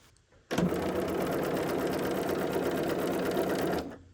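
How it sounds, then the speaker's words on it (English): A sewing machine fitted with a 37 foot stitches a quarter-inch seam along a cut line for freehand embroidery, running loud and steady for about three seconds after a sudden start, then winding down, with no talking. "we're going to stitch 1/4 of an inch to the edge of this cut line or the dotted line"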